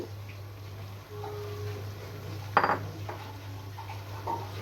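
A metal utensil clinks and scrapes in a cooking pan as pre-fried small fish go into a drying potato curry, a few sharp clanks over a low steady hum with no talk.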